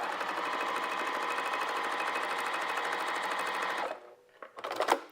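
A sewing machine top-stitches soft vinyl in a steady, fast mechanical chatter for about four seconds, then stops, followed by a few brief handling noises.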